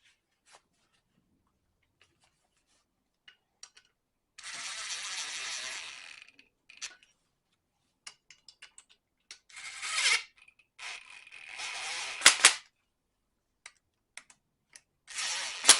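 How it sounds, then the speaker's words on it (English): Impact wrench giving a bolt a few short, light bursts of torque while replacing a water pump on a small block Chevy engine, nearby with clicks and handling noise between the bursts. "that's just a little bit of light torque with the impact."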